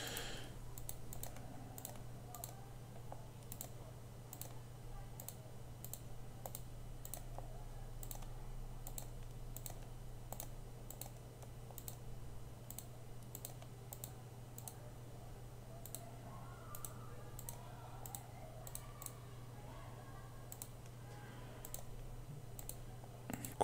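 Mouse buttons click rapidly and steadily during route-setting in EVE Online planetary interaction, a long run of sharp, near clicks over a constant low computer hum.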